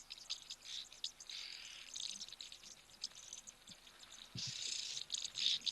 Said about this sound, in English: Listen to those oxpeckers having a bit of a squabble.